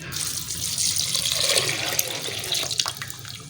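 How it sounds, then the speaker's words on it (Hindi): Water gushes steadily from a tap into a cooking pot, a continuous splashing pour that stays loud and close throughout with no one speaking. "इसके साथ ही मैं ये पानी डाल दूंगी"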